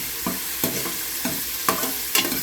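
Beef fat renders into oil in a pan for papaitan, sizzling steadily beneath repeated rhythmic scrapes of a spatula stirring it, all close and without talk.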